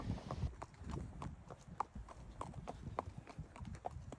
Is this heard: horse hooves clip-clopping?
yes